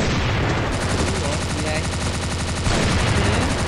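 Rapid automatic gunfire from the 3Z gun in the Crossfire Legends shooter, fired at zombies in one continuous dense burst, loud and close, with a brief change in the stream of shots near the end.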